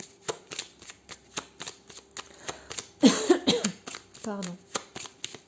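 Cards from a 32-card deck shuffled for a fortune-telling reading, a steady run of quick riffling bursts through the whole stretch, with a brief cough and a short spoken word near the middle.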